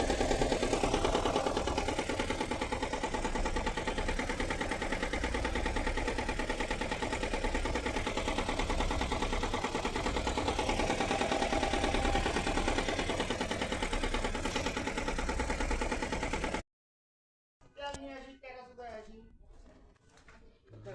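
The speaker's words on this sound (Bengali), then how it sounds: "শব্দ করতেছে প্রচন্ড হাইব্রিডে।" A Honda hybrid car engine runs noisily with a dense, rough, steady rattle and drone that continues for most of the stretch, then cuts off abruptly, and someone speaks briefly afterward.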